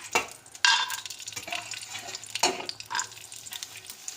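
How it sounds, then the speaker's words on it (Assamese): Dry fruits frying in a pan on the stove, a steady crackling sizzle with clinks and stirring scrapes of a spoon against the pan, close and fairly loud throughout. "ড্ৰাই ফ্ৰুটছখিনি ফ্ৰাই কৰি পেলাই তাৰপিছত তাত দি দিম"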